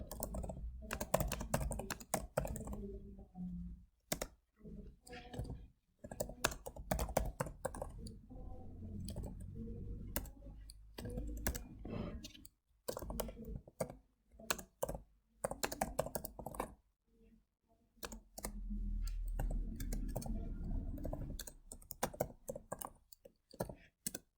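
A computer keyboard clatters as text is typed into table cells, with irregular bursts of close, quiet key clicks separated by short pauses.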